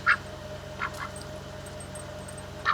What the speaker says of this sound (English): I don't know what the duck was doing right there